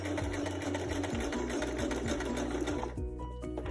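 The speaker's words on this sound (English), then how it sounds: "We go back stitch." A sewing machine back stitches at the end of a seam on a homemade fabric face mask, its needle chattering in a fast, steady mechanical run that stays loud and close throughout with no talk over it.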